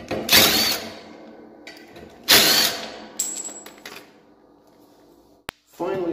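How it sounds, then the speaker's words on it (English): Wrench loosening bolts on a Big Bear ATV front differential, with short bursts of ratcheting clicks separated by quiet gaps, a brief metallic ring and a sharp tap near the end. "And two more bolts on this side."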